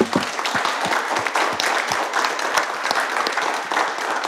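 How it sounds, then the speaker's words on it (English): An auditorium audience at a debate in Geneva gives a round of applause, a lively, continuous patter of many hands clapping at close range, with individual claps standing out within the crowd. "I'd like to finish by simply giving all of them a round of applause as well"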